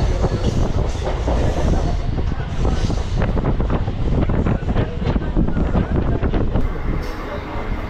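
A passenger train bound for Digha rumbles along loud and close, continuous wheel-and-track clatter with heavy wind buffeting the microphone throughout.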